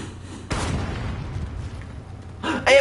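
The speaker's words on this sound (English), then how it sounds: "Because I wanna increase the radius of the explosion." Dynamite detonating in the video game Astroneer, heard as a sudden heavy boom followed by a long rumbling decay, with further sharp bursts near the end.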